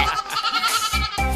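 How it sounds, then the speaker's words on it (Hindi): A frightened cartoon goat bleats in several loud, close, wavering cries with short gaps between them. "बकरी डरकर चीखने लगी।"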